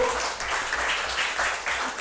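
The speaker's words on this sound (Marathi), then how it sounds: "या फॅमिलीसाठी जोरदार टाळ्या." Audience clapping for a family called onto the stage at a World Health Day event, a dense steady round of applause from a crowd, brief and close.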